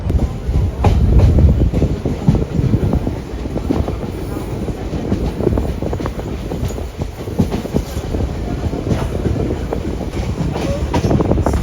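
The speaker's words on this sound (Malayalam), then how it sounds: "ട്രെയിൻ വളരെ പയ്യാണ് ഈ ഭാഗത്തൂടെ പോകുന്നത് കേട്ടോ" The Ernakulam–Pune SF Express rolls slowly along the tracks near Udupi, loud rumbling with irregular clacks and knocks of wheels over rail joints, continuous throughout.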